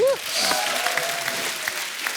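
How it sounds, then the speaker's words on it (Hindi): Studio audience applause on a TV comedy talk show, a dense wash of clapping that starts right after a voice and holds steady at moderate level to the end. "जोरदार ताली हो जाए"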